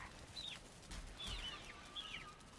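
Chicks in the game Valheim give soft, high chirping peeps in a few short bursts, fairly faint against a quiet outdoor background.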